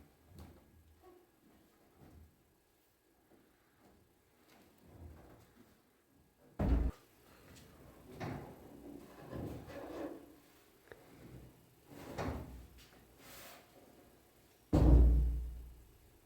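Doors on a 1972 Camaro fitted with Ring Brothers hinges open and close in a garage. Two sharp latch thuds stand out, with softer handling noises and shuffling between them.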